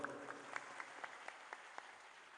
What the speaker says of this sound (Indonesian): Tepuk tangan buat Desa Silotumpeng.